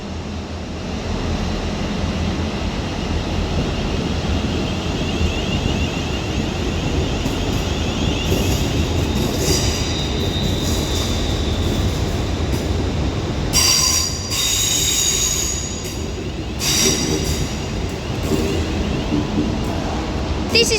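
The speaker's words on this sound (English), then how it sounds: "now departing already is going to be the 1333 London North Western Railway service to Birmingham New Street, informed by a class 350" A Class 350 train departs Liverpool Lime Street on a London Northwestern Railway service to Birmingham New Street. A loud, continuous rumble of rolling wheels and motors is cut by several sharp, high wheel squeals near the end.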